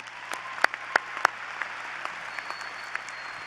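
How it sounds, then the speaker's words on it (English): Applause from the audience at a college graduation ceremony for social sciences and interdisciplinary studies graduates: steady, fairly distant clapping with several sharper claps standing out near the start, and no talking. "Let's give you a big round of applause once again."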